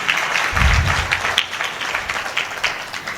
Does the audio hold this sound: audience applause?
yes